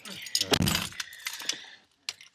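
Car keys jangle and clink in a few short bursts, close and fairly loud, with brief pauses between shakes; no one speaks.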